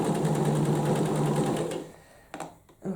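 A sewing machine stitches along a cushion cover seam in a fast, even whir for almost two seconds, then stops, leaving a few faint clicks and handling sounds.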